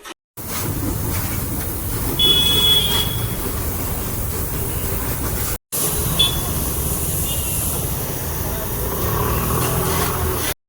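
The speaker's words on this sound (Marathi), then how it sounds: "इथून ट्रेन चालली आहे किती छान वाटतंय ना" A train rolls past on the tracks, a broad, steady rumble with a brief wheel squeal, heard from the roadside in two segments separated by a short break.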